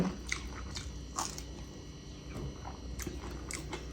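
Close, crisp bites and crunching as someone eats a raw leafy wild vegetable gathered by a stream, with several separate bites and chews spread over a few seconds against quiet room tone.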